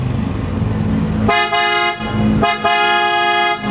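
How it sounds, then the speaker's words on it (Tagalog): A loud, deep aftermarket super bass car horn blasts twice in long sustained tones, rich and booming, right up close after a stretch of engine rumble. "Test natin yung super bass horn ni sir."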